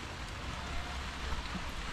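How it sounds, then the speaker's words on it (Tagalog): Rain falls steadily in a spot where people are bathing in the downpour, a soft, continuous patter of drops on surfaces with faint scattered splashes and no talk over it. "Sarap maligo ng ulan"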